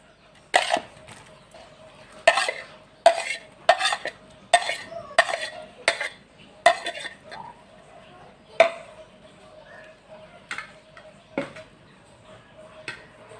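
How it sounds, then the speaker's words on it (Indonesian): Shrimp being stirred in a pot for Acehnese durian curry: a dozen or so sharp metallic clanks and scrapes of a spoon against the pot, irregularly spaced and close, with quiet gaps between. "Sekarang kita mulai mengaduk."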